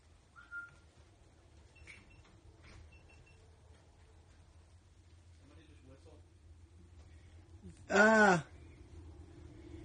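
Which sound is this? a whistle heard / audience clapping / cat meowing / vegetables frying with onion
a whistle heard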